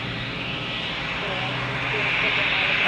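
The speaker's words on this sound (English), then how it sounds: "Yellow sunshine livery on the Commodore A320" An Airbus A320 in yellow sunshine livery at Zurich Airport, a steady jet engine rumble that grows slightly louder toward the end, heard under a voice.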